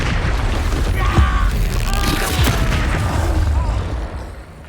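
An Expulso spell detonating in Hogwarts Legacy, a deep booming blast with rumbling low end and whooshing magical sweeps, loud and close, fading out toward the end.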